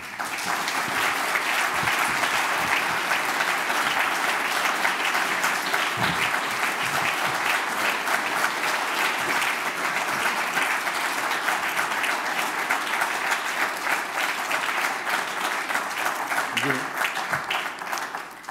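Dense, steady applause from a ceremony audience honoring an ethics award recipient at an anti-corruption prize event, sustained and even throughout, with a few voices faintly underneath.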